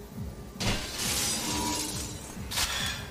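Glass thrown and shattering in the video game Manhunt 2: a sudden bright crash near the start, a sustained crackling spray of fragments, then a second sharp burst near the end over a low rhythmic background.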